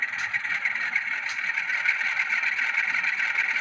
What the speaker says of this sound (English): And all the engine revving